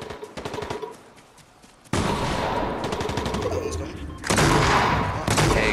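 Rapid automatic gunfire bursts in the Fortnite video game crackle loudly in quick rhythmic volleys, broken by a brief lull, with voices talking at moments over the shooting.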